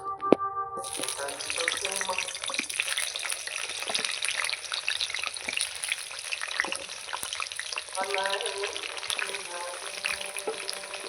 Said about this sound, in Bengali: তেলটা গরম হয়ে গেছে এবার আলুগুলো দিয়ে দেবো